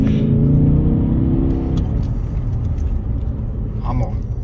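A VW Phaeton 5.0-litre V10 diesel 4Motion accelerates hard, heard from inside as a loud, steady engine roar throughout, with a brief voice-like tone near the start.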